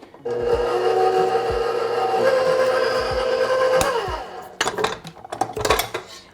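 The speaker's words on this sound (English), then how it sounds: "We're gonna start mixing." Cookie dough of flour, chocolate chips, coconut oil and sugar being mixed in a bowl: a loud, steady mechanical whir for about four seconds, then irregular scraping and knocking against the bowl, with no voices.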